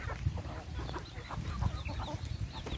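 Chickens, including American breeds, clucking in a pen with rice hull bedding, soft irregular clucks over a steady murmur of farmyard background.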